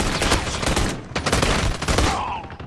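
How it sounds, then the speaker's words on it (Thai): Gunfire from a pistol in the mobile game Call of Duty Mobile, a loud, dense burst of rapid shots that thins out toward the end. "มันแบบกระสุนมันกระจายทุกคนถ้าแบบเรากดค้างอ่ะ กระสุนมันจะกระจายนิดนึง"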